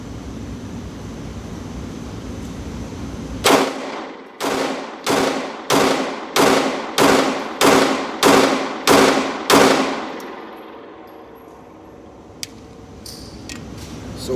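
A CZ P-10c pistol fires ten sharp shots from a ten-round magazine, evenly spaced and loud, each with a short echo. Quiet ambient noise comes before and after the string.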